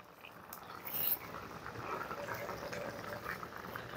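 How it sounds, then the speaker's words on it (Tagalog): Coconut cream pouring into a simmering tilapia stew with eggplant, a soft, quiet liquid fill over a low bubbling simmer, close and faint, with a brief knock partway through and no talking. "ilalagay na natin yung ating kakanggata"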